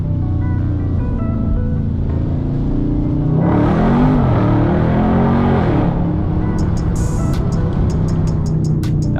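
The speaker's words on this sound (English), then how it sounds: "That was a first gear pull from 20 and still no issues." A Dodge Charger Scat Pack on Toyo R888R tires pulls hard in first gear from 20 mph on a rain-soaked road. A steady engine drone swells into a louder roar with hissing spray for a few seconds, then eases back.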